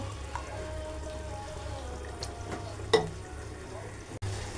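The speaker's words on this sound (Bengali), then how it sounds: "এখন একটু ভেজে নিব যাতে বাদামের কাঁচা গন্ধটা চলে যায়" A blended paste of nuts, raisins and poppy seeds fries in a pan with a soft, continuous sizzle, broken by a couple of light knocks and a brief utensil clack.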